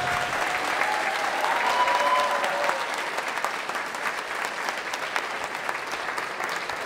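Audience at a Polish high-school prom polonaise show in Radom breaks into sustained, dense applause, steady and fairly loud throughout, with faint whoops mixed in.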